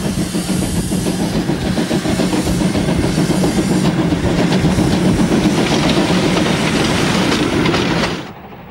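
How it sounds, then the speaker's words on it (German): An express train pulls out of Ulm station toward Friedrichshafen with a loud, close, steady rumble, hissing and rhythmic clickety-clack of wheels over rail joints before the sound cuts off abruptly. "Ausfahrt frei für einen Eilzug aus dem Bahnhof Ulm in Richtung Friedrichshafen."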